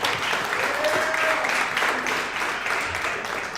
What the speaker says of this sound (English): let's get a round of applause for that one